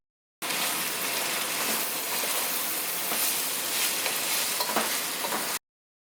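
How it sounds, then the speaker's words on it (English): Steady loud sizzling and frying hiss from drained white beans in a hot soup pot, continuous and close, with faint stirring scrapes, then cutting off abruptly. "And let them sizzle together for a minute or two before you add the greens."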